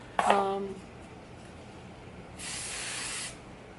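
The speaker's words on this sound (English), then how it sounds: "I'm literally just spraying this Aussie Instant Freeze" A short burst of Aussie Instant Freeze hairspray hisses for about a second, following a brief voice-like tone near the start; otherwise quiet.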